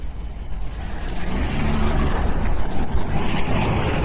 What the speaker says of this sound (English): I'm going to back my car up a little bit so we're in a safe spot here